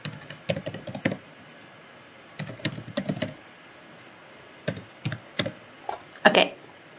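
Several short bursts of typing on a computer keyboard as an email address is entered. The crisp key clicks are close and come in quick clusters separated by pauses.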